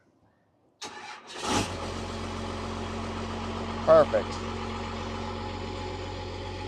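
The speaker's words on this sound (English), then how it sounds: "it's still idling a little high" An old junk car's engine cranks for a moment, catches, and settles into a steady, slightly high idle from a sticky throttle linkage, with a short spoken word over the running motor.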